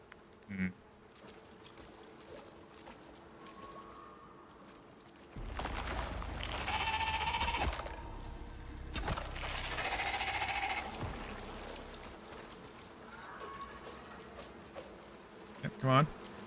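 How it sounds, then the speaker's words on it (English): Bees buzzing in a steady, dense drone that swells loudly midway and then fades, with a few sharp knocks at the start and end and no talking. "Bees."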